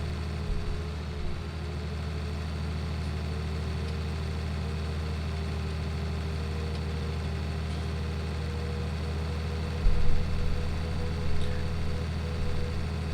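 Tractor engine in Farming Simulator 19 on the Felsbrunn map, a steady low droning hum that runs unbroken throughout with no talk.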